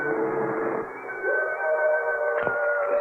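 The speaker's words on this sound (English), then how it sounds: "Do they too hear the howling of the frightened dogs?" Frightened dogs howl in a long, sustained chorus of rising and falling wails, loud and close, with a brief knock partway through and no talk over them.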